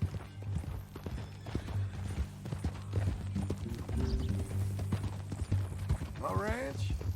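Steady clip-clop of horse hooves in Red Dead Redemption II, close and rhythmic, over a low mechanical hum, with a brief whinny-like call near the end.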